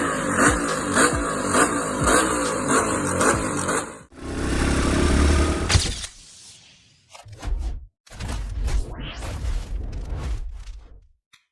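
An Aprilia RS-GP 850 V4 race motorcycle at the Jerez circuit, its engine revving hard and loud, then surging past and fading, with a few further sharp bursts afterward.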